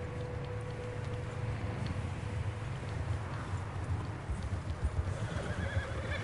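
A horse in the video game Red Dead Redemption 2 whinnies and its hooves clip-clop steadily, with a faint low rumble beneath; no talking.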